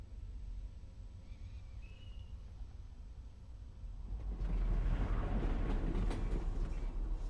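In the video game Half-Life: Alyx, a train runs with a steady low rumble that swells louder partway through and keeps rolling, close and continuous, with no talk.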